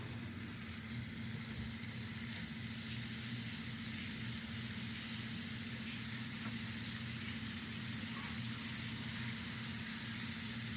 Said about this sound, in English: Got a nice sizzle.